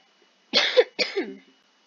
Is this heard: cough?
yes